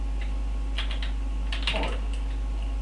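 Typing a command on a computer keyboard, a few soft scattered keystrokes with a brief flurry near the middle, close but faint over a constant low hum.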